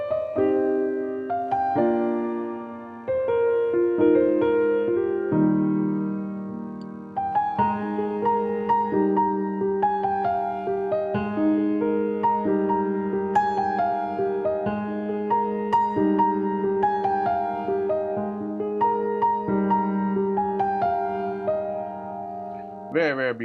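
A soft, airy piano virtual instrument preset plays slow chords with gentle melodic phrases, sustained and reverberant, alone without talk.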